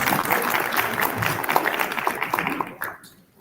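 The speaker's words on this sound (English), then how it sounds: "Give a round of applause." Audience applause at a business seminar in Bloemfontein, a brief burst of dense clapping from a room of people that tapers off and stops within a few seconds.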